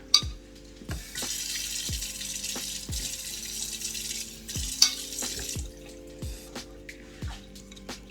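Water trickles from a tap into powdered peanut butter and is stirred in, a soft running stream with repeated clinks of a spoon against the container at a steady, uneven rhythm, close by.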